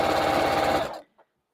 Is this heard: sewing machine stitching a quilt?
yes